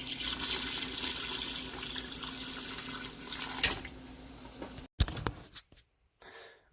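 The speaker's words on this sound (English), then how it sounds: "I'm adding a bit of water just to make sure the bones are completely submerged." Tap water runs steadily into a pot of chicken bones, a close hissing stream that cuts off near the end, leaving a few faint drips and clatters.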